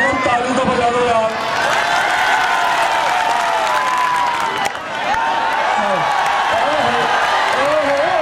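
Crowd at an outdoor wrestling dangal applauding and cheering, a dense continuous roar of clapping and voices with a brief dip midway, while someone talks over it on a loudspeaker.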